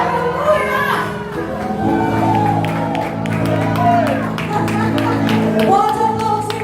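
A church congregation applauding during an Easter service, a broad sustained wash of clapping and cheering under a loud sung melody and a voice leading over the top.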